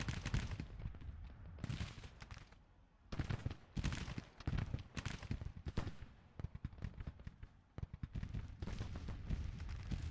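Musket volleys crackle in Grand Tactician: The Civil War, with repeated ragged bursts of massed rifle fire, some close and loud, others scattered and thinner, rolling across a Civil War battlefield.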